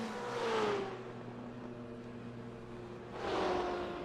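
Race car engines in a sim racing game at the Nurburgring during a sportscar championship race, a steady droning whir with two rising revving passes near the start and end, heard alone without talk.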